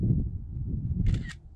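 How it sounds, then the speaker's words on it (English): A ZLL SG908 3-axis gimbal quadcopter's camera fires via hard remote, giving a quick double shutter click near the end over a steady low outdoor rumble. "shutter noise"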